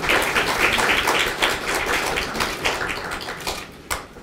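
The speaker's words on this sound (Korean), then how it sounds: "한 분 한 분 뜨거운 박수로 환영해 주시기 부탁드립니다" An audience claps to welcome guests at a policy debate. The applause starts as a dense wash of hands close by, then thins and tails off toward the end.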